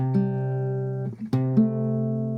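A single guitar chord rings out, then is briefly muted and struck again twice, sustaining clearly with no voices.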